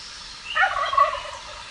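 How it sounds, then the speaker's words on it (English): A wild turkey gobbles once, a loud rapid warbling burst rising after a brief pause and rolling on for about a second before trailing off, heard alone outdoors. "Maybe the most distinctive feature of a turkey is its gobble."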